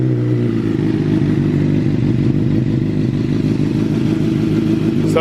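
A 2022 Suzuki GSX-R750 sport motorcycle with a full M4 exhaust idling loudly and steadily after starting, a deep continuous throbbing rumble with some mechanical clatter.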